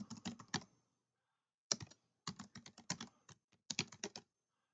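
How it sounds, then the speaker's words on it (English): Keys clatter on a computer keyboard as a web address is typed in quick bursts, with pauses between groups of keystrokes, close and clear in an otherwise silent room. "So I'm going to type learninformatics.co.uk/login ASP."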